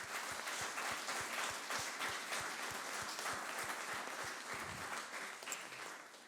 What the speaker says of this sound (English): I think we can give an applause.